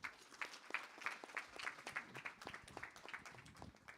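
Audience applause at an outdoor street co-naming ceremony held by a Hindu gurukula in the Bronx, a steady patter of many hands clapping at moderate volume for about four seconds, with no speech over it.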